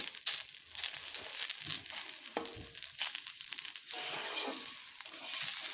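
Drumstick-leaf recipe ingredients frying in a pan, a faint crackling sizzle with rustling, crinkly stirring that swells toward the end.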